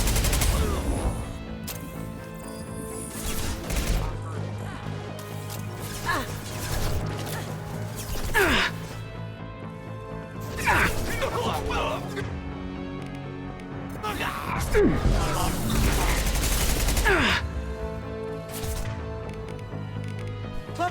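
Bursts of sci-fi gunfire erupt in a Mass Effect 2 firefight, rapid volleys and impacts recurring in loud clusters with quieter gaps between, while a person talks over parts of the action.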